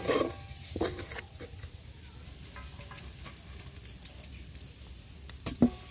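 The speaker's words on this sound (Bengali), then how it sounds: "তো এবার এগুলোকে আমি একটা থালার মধ্যে ঢেলে নেব।" Cooked rice flour dough for chusi pitha being tipped from the pot onto a plate, with faint scattered metallic clinks and light scraping, close but quiet.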